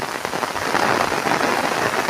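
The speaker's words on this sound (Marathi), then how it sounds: "सध्या कोकणात जोरदार पाऊस चालू आहे" Heavy monsoon rain falls in the Konkan countryside, a loud dense hiss of drops drumming on surfaces, steady and close with no voices.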